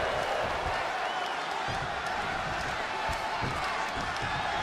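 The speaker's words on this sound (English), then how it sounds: "I don't remember the last time I heard a crowd as loud as this one in Raleigh" A loud wrestling arena crowd in Raleigh roars continuously, a dense wall of cheering and shouting with thuds from the ring underneath, while commentators talk over it.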